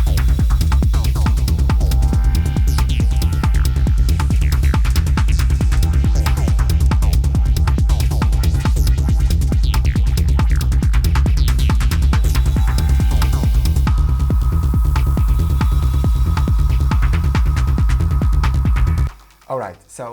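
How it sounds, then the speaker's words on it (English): Hypnotic, groovy techno track with a loud, continuous throbbing low end and a steady, repeating percussive pulse. It plays without a break before cutting off abruptly at the end. "how to make hypnotic groovy techno that sounds like this"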